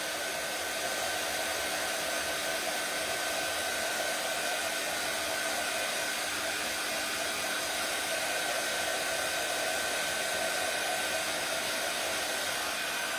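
A hair dryer runs steadily and continuously, drying paint on a handmade Christmas gnome craft, with a constant close airy whir and no talk.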